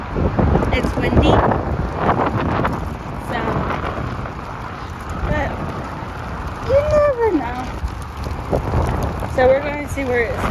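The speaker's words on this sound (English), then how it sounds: "So windy out here." Strong wind buffets the microphone with roaring gusts throughout, while a person speaks briefly underneath.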